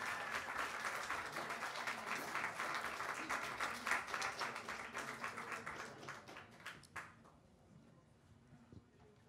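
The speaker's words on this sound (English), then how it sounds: "Another round of applause." An audience at a jazz awards night applauds in a dense, steady wash of clapping for about seven seconds. The clapping then thins quickly into a few scattered claps and a quiet room.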